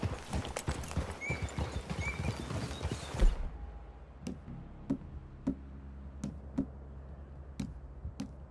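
Horse hooves clip-clop in Red Dead Redemption 2, a dense quick patter of steps on the ground that slows to sparse single thuds as the horses come to a stop, close and clear with no talking.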